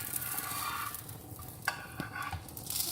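Makki ki roti (maize flatbread) sizzles faintly in oil on a pan, a soft continuous crackle with a few light scraping and handling knocks over it.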